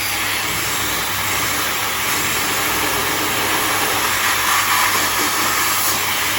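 A hair dryer blows heat onto hair rolled around a brush, producing a loud, steady, airy whoosh with a high whine that holds constant for several seconds, with no talking.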